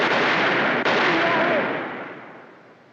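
A loud, close burst of gunfire fills the space with a dense blast that rings out and slowly decays, with a brief sharp crack partway through.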